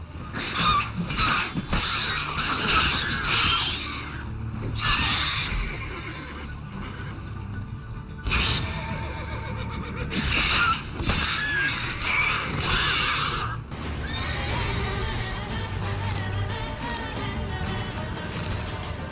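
The horse Roach in The Witcher 3 video game, galloping with rhythmic hoofbeats and letting out several loud whinnies and neighs, with game music and effects throughout and no talk.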